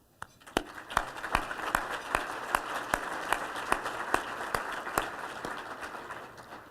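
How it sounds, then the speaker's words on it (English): An audience claps after a call to applaud partners' hard work at a United Way event. The sustained applause builds quickly and holds steady, with sharp individual claps standing out from the crowd and no speech. "Please join me in applauding all of their hard work."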